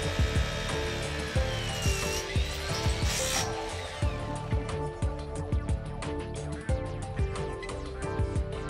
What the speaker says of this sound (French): Percez les trous.